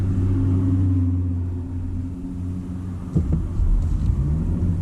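A Lexus LX600 twin-turbo V6 SUV cruises in sport mode, heard from inside the cabin as a steady, heavy low rumble of engine and road noise with a slight swell toward the end.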